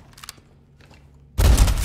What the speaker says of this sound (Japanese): 爆発の仕方が派手なのよ。